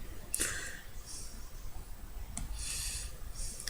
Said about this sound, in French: on gratte et il y a le noir qui reste